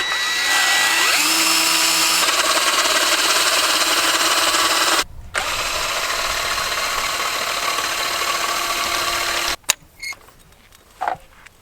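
A 14.4 volt Ryobi cordless drill whirs steadily at close range, its motor pitch shifting, briefly stopping, then running again before cutting off with a few short bursts.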